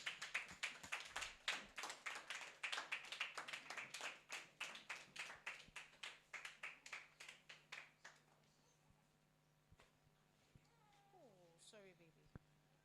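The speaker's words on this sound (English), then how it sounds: "Please clap for them, please." An audience at a clinic welcome for a couple and their new baby claps in a sharp, steady rhythm for about eight seconds, then the clapping stops and only faint, quiet sounds remain.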